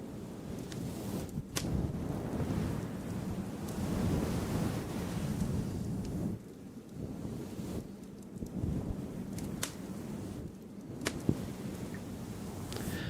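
Continuous broadband brushing for ASMR with a soft, rushing, wave-like wash, steady and close, briefly dipping and swelling again midway, with a few sharp scratchy strokes; no talking.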